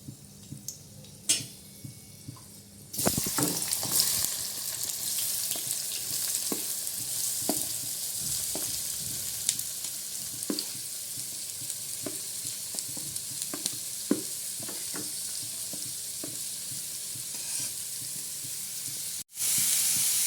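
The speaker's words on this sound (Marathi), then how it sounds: "तेल गरम झालेलं आहे. आपण कांदा टाकून घ्यायचा" Chopped onion drops into hot oil in a home kitchen pan and sizzles loudly and continuously, with occasional scraping stirs over the steady frying hiss.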